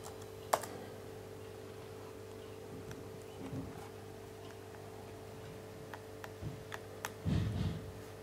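Password being typed on a MacBook keyboard: faint, sparse clicks of individual keys with brief pauses, over a low constant hum, ending in a short soft rustle.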